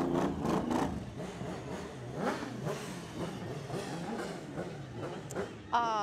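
Cars in a Christmas parade rev their engines again and again, loud and close, with the revs rising and falling in uneven bursts and a brief sharper burst near the end.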